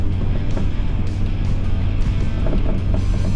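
A truck fitted with a snow plow and side wings pushes deep snow along a road, giving a continuous low engine rumble mixed with a rushing, scraping whoosh, close and steady.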